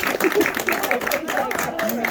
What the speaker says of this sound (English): So a big round of applause for you guys.